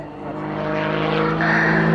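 An aerobatic airplane performing snap rolls at an airshow, its engine drone rising in pitch and loudness over two seconds as it climbs, a continuous buzzing tone heard from a distance.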